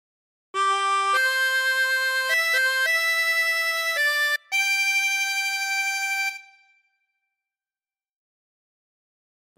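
A 24-hole tremolo harmonica plays a slow Amazing Grace phrase, several held reedy notes stepping up and down with a brief gap, loud and close, then a gentle fade to silence.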